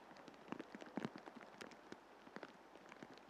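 Steady rain pattering across a golf course during a Northumberland championship round, a soft dense patter with scattered sharper drops, fairly quiet and heard alone.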